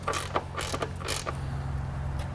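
A ratchet with a 13 millimeter socket tightens a bolt while an air bag is installed on a vehicle, making a few quick bursts of close, clicking pawl strokes over a low background hum.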